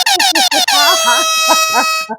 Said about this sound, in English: Ooh, you heard that air horn.